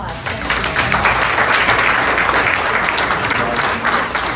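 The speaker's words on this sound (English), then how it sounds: "All right, let's give them a round of applause." At a candidate forum, the audience breaks into loud, sustained applause, a thick continuous roar of clapping hands that holds steady before easing slightly at the end.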